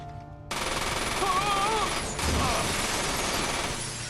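Flashbangs and gunfire in Resident Evil 0: after a brief quiet start, a dense, loud burst of rapid shots and blasts runs continuously with another surge midway, while a voice talks faintly underneath.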